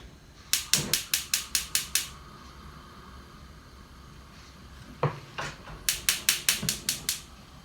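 The igniter on a Samsung gas range converted from natural gas to propane clicks in a fast, sharp series of about eight snaps, stops, then clicks again in a second run, close and loud.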